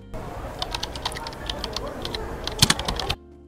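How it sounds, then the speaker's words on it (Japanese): A CapCut typing sound effect plays as a quick run of crisp, close keyboard clicks in an irregular rhythm, growing slightly louder near the end before cutting off abruptly. "タイピング音っていうのが下に挿入されましたので"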